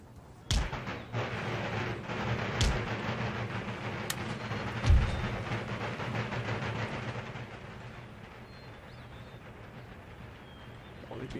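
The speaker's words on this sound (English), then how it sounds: "Oh, look at that! It's an absolute barrage" An artillery barrage in Empire: Total War, with a handful of heavy booms landing irregularly over a rumbling battlefield din while a commentator talks throughout.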